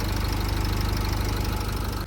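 A Renault Koleos 2.0 diesel engine idles steadily up close, a continuous low, knocking rumble with an even mechanical chatter and no voices.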